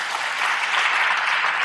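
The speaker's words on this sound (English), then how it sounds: "Big round of applause" Dense applause from a conference audience at a web developer event as a speaker is introduced, a continuous even wash of clapping that swells slightly and carries on throughout.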